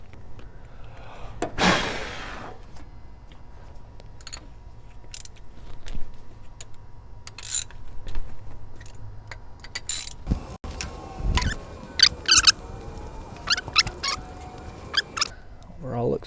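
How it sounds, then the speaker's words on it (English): A ratchet loosens and removes spark plugs from the engine of a 1976 MG Midget that has sat for 13 years, giving bursts of close metallic clicking and clunks, sparse at first and busier later, with faint talk nearby. "Let's go to get these spark plugs pulled out so we can get an idea of what we're working with in these cylinders."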